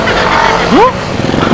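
Yamaha NMAX scooters with open pipe exhausts pass close by, a loud engine rasp with a quick rising whine as one accelerates past, over steady traffic rumble.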